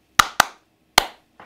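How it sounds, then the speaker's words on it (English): Hand claps played along to a guitar riff, three sharp close claps in quick succession and then a softer fourth after a pause, with no talking. "maybe you can clap along with me like this."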